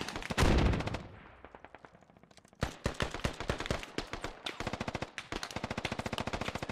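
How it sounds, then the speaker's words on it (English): RPK and SAW machine guns fire in a video game, an opening loud burst followed by a lull, then sharp repeated rapid-fire volleys trading back and forth, crisp and fairly close. "We got an RPK and a saw gunner facing off here."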